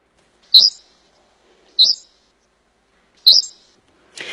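Three sharp, high bird chirps at full recorded speed, spaced about a second apart, followed by a softer raspy call, each clear against silence.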